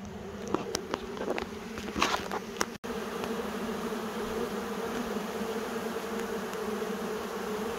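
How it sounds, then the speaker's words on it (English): Honey bee swarm coming out of a box, a steady close buzzing drone of many bees with a few louder passes near the start. "Bees just come from my box."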